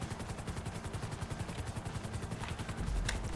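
Helicopter in GTA V Online with a faltering engine, rapid rotor chop pulsing steadily, with a couple of sharp bursts and a deeper thump near the end.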